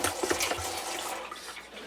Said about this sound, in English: So you put about a cup of vinegar in there.